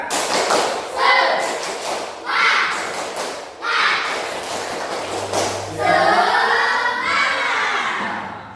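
A group of children performs the 'tepuk semangat' clap chant in a classroom, with rhythmic claps and thumps in bursts alongside their loud shouted chanting.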